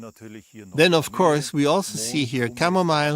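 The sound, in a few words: crickets chirping in a wheat field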